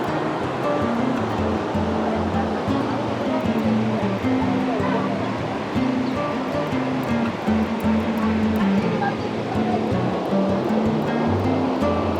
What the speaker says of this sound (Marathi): खाली पाण्याचा फोर्स बघा किती आहे